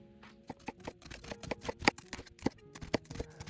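A knife dicing an onion for a chopped house salad, producing a quick series of crisp, sharp cuts and taps on a board, close and fairly soft, irregular in rhythm, with no talking.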